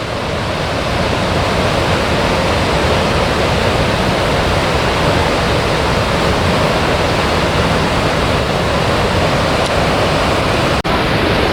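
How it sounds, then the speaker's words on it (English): Loud, constant roar of Minnehaha Falls in Minneapolis in spring, a dense unbroken rush of water filling the whole stretch without any voices. "here's a look at the water coming down through the other side of the falls"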